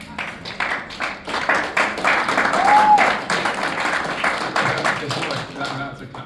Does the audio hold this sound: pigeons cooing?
no